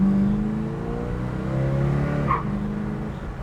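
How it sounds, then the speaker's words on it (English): A 1970 Oldsmobile Cutlass pulls hard under acceleration, its engine note rising and shifting, with a brief tire chirp as it grabs second gear, close and loud. "Nice little chirp there in second gear."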